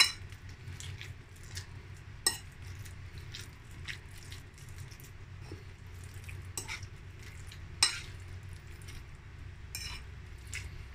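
Minced fish is stirred with celery and a splash of red wine in a bowl, giving quiet, steady wet mixing with a few sharp utensil clinks against the dish.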